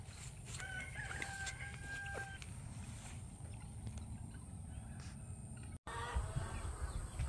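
Chickens and a rooster in backyard poultry pens of a subtropical food forest; a rooster crows clearly near the start amid steady clucking and fowl chatter, with a continuous outdoor background hum.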